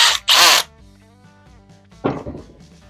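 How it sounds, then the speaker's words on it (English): A power drill boring pilot holes to mount a rod tube on a kayak: two short, loud, close whirring bursts with a brief pause between them, a quieter humming stretch, then another rising burst. "we'll start some pilot holes here to screw in the screws"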